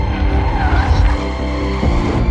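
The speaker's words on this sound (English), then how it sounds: "In your mind, you hear the engine roar." A sports car engine roars while its tires squeal and skid, loud and close, in a short burst of revving and screeching rubber that stays front and center with no talk.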